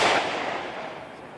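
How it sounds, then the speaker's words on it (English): Backyard fireworks go off in one loud, crackling burst that fades into a sizzling tail over about a second, with no voices. "Because fireworks."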